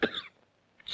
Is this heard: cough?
yes